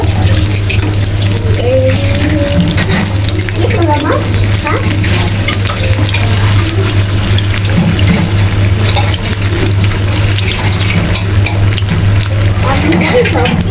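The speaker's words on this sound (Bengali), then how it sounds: "দিয়ে দিছি তেল গরম করে একটা একটা করে সুন্দর করে ভেজে নিব" Vegetable rolls frying in hot oil, a loud continuous sizzle and crackle with steady bubbling, a low constant hum beneath it and faint scraping or stirring now and then.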